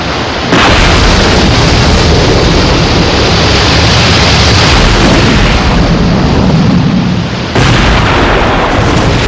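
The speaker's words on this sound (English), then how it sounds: "That gas field has blown again." A gas field blowing out in a puppet adventure series sound effect, a loud sustained roaring blast of broadband rumble that holds at full strength for several seconds with a short break and renewed surge.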